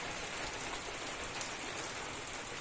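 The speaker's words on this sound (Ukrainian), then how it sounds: "Оце у нас дощ такий сьогодні." Heavy rain pours steadily outdoors in Ukraine, a dense, constant hiss spread evenly across the whole stretch with no voices over it.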